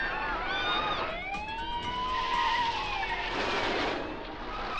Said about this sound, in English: There's always a car chase at the end.